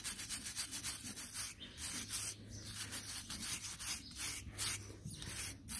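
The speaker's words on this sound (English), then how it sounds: "So we've used a stout hoof pick and then just a wire brush." Stiff wire brush scrubbing a horse's hoof wall to clean out hoof wall separations, a steady close rasping and rubbing in repeated strokes throughout, with no talking.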